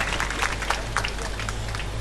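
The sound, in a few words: audience applauding at a Gujarati comedy show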